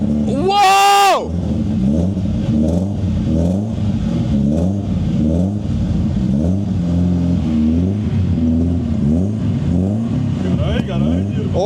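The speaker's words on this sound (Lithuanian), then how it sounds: "Dabar galėtų ant to momento užsikurt motoras" A car engine cranks with a rising whine, catches and settles into a loud, uneven rev, and keeps running with a surging rumble close by.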